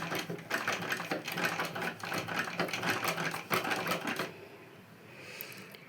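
A sewing machine with a broken drive belt stitches as its hand wheel is turned by hand, giving a fast, steady mechanical clatter that stops abruptly near the end.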